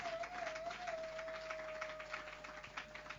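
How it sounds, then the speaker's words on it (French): A church seminar congregation claps and cheers in praise, a dense, faint patter of applause lasting a few seconds with a steady tone ringing underneath. "Celui qui a la joie, qui acclame fortement pour Jésus"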